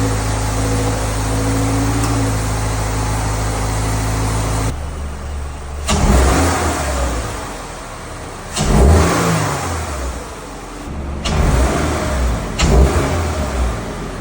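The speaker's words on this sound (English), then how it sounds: "I wanna give you guys some revs, because I'm sure maybe some of you guys are curious what a high flow air filter even sounds like" A Toyota GR86/Subaru BRZ fitted with a high flow air intake idles, then revs repeatedly in several loud, close bursts with audible intake roar between quieter pauses.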